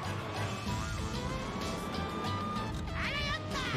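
Police sirens wail in the video game Yo-kai Watch Busters 2 as many police cars give chase, the sirens rising near the end over a constant layer of game music and engine noise.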